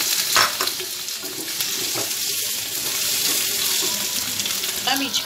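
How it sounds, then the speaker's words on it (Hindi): Capsicum shallow frying in butter in a kadhai, a steady hissing sizzle with a few stirring scrapes and knocks, close and fairly loud, no one speaking. "शिमला मिर्च भी मैंने अच्छा से सेलो फ्राई कर ली है।"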